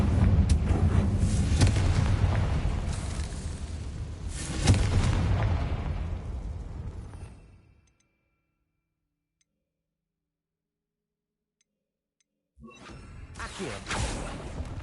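Confringo spell explosion in the Hogwarts video game, a loud booming blast with a rushing whoosh that fades into silence, followed by another burst of noise near the end.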